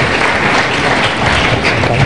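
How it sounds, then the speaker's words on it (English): Warm applause from the audience at an aviation event in Nigeria, dense and steady clapping filling the hall at close range without pause. "Another warm round of applause from the Icao President to His Excellency,"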